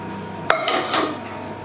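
Vegetables are stirred into a cabbage-roll stuffing in a bowl. A single sharp clink of utensil on bowl is followed by soft, brief scraping and mixing, close and fairly quiet, with no talking.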